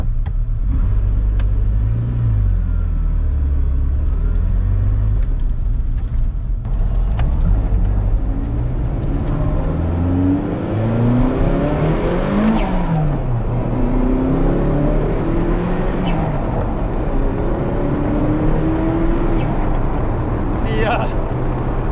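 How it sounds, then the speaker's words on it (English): A Ferrari F40's turbocharged engine roars and revs hard, its pitch climbing and falling through repeated pulls, with the wastegate releasing and a voice talking over it. "The release of the wastegate is pretty wild."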